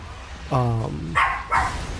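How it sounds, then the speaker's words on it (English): Small dog yapping in the background, a few short high yips, while someone talks during a Warframe gaming session. "sorry if you can hear the little doggy in the background"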